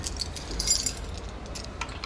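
A bunch of keys jangles and clinks close by in a few quick bursts of bright metallic chinks, with quiet background noise between them.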